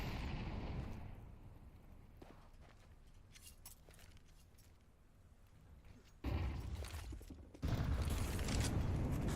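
Grenade blasts in a Counter-Strike pro match between B8 and Team Spirit Academy, heard as two sudden, loud, broadband bursts late in the clip over a low, rumbling game bed.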